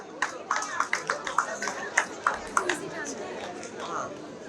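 Scattered clapping comes from an audience at an MBA convocation ceremony in Kolkata, a loose run of claps over the hum of chatter in the hall.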